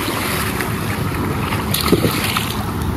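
Ocean waves break and wash on a beach in a continuous roar, with heavy wind buffeting the microphone and no clear talk.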